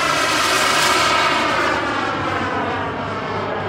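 A radio-controlled scale model Avro Vulcan bomber flies past with a loud, steady turbine roar that fades slightly over the few seconds, with no voices.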